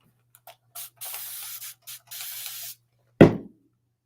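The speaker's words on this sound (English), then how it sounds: "Here's my spray bottle." Spray bottle misting water onto a paper craft project, several short sharp hissing bursts in quick succession close by, then a single thud at the end.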